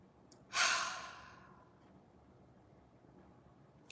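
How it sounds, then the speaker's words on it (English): A single deep breath drawn in during a guided intention-setting session, a broad airy rush that swells quickly, then trails off slowly into near silence, heard alone and fairly close. "Take a deep breath into it."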